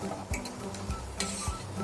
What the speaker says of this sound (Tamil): பருப்பு போட்டதுக்கப்புறம் சும்மா ஒரு வாட்டி மிக்ஸ் பண்ணி விட்டுருங்க.